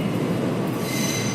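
Loud, steady metallic screeching of New York subway train wheels grinding along the rails, a harsh continuous squeal filling the station with no pauses.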